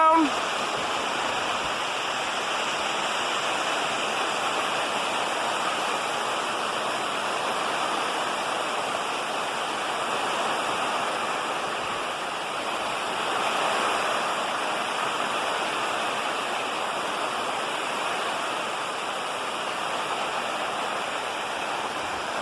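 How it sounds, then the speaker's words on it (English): Steady heavy rain in a windy rainstorm outdoors at a PVC hoop-house greenhouse, a continuous dense hiss that fills the whole stretch without pause. "Rain's coming down."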